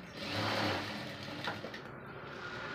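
A sewing machine runs continuously at close range, stitching a seam joint on a garment, its whirring motor and rapid needle chatter steady with slight speed changes and no voices.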